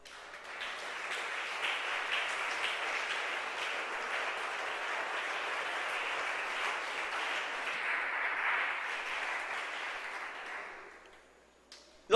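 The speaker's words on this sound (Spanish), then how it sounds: "Denle un aplauso al Señor." A church congregation applauding during a Spanish-language sermon on forgiveness, sustained broad clapping for about eleven seconds that fades out and ends in near silence.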